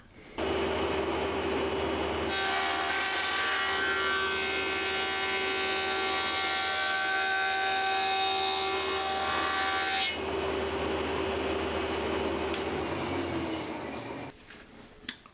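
A woodworking machine with a helical spiral cutterhead runs and cuts in a steady, loud, continuous whine with high tonal squeal, holding even for about fourteen seconds before stopping abruptly.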